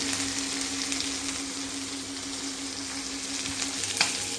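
Food frying in a pan in a home kitchen, a constant loud hiss and crackle of oil sizzling close by, steady throughout with a faint low hum beneath and no talking.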